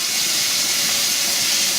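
Glass jars of homemade jam boiling in a water bath canner, a steady, dense rushing hiss of rolling boiling water, close and constant with no breaks.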